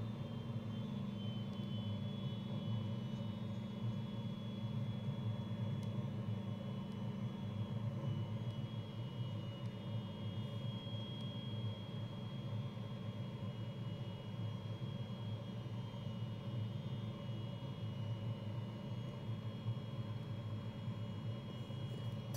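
A Fouga jet aircraft taxiing and braking on the runway at LFMA, its engine a steady, fairly quiet whine and hum heard from the cockpit, unbroken throughout with no talk.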